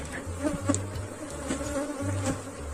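A swarm of Africanized honey bees hums steadily up close, a dense buzzing drone with individual bees flitting nearer and away in brief louder passes.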